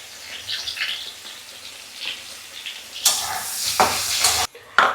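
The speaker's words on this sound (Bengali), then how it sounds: "হালকা হলুদ দিয়ে আর একটু নুন দিয়ে ভেজে নেব" Vegetables fry in a pan with turmeric and salt, giving a soft sizzle that swells into a louder burst of frying near the end, followed by a brief clatter.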